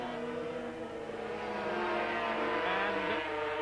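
500cc Grand Prix motorcycles race into the chicane at Donington Park, their engines a sustained, rising multi-tone whine heard at a moderate distance, with no commentary audible.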